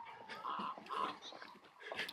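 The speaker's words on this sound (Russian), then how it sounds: "Вот утки, гуси." Ducks and geese call near a moored ship on the Yenisei river, giving several short, nasal, honking cries in quick bursts, close by and fairly loud.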